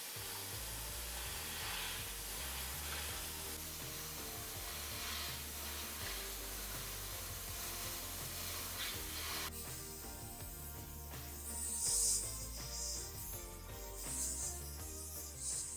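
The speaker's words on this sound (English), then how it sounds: "The paint sprayer I'm using will add a nice and shiny finish to the framework." A paint sprayer hisses continuously while spraying bright violet paint onto the framework of a rusty classic car under restoration in a garage, a steady broadband rush with faint background music and no talking.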